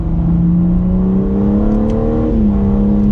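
Loud, close engine drone of a 2021 BMW M4 Competition, its pitch climbing and then dropping with a brief interruption as it shifts into third gear, then steadying again at a lower note.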